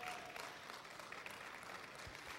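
A church congregation applauds during a sermon, a steady wash of many hands clapping at moderate distance, even and sustained throughout with no distinct voices.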